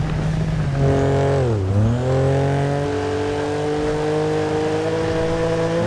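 A 2015 BMW M4 in the GTA 5 video game, engine droning steadily, then a sharp rev dip and climb as it shifts and accelerates, followed by a sustained high-pitched engine whine.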